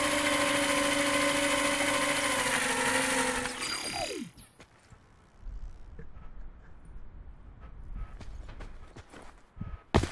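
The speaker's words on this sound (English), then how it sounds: "I wonder how long it takes for the drone to fall down." A drone in a battle royale video game flies with a steady, dense mechanical hum and whine for about four seconds, then cuts off abruptly, leaving quieter scattered game noises and soft clicks.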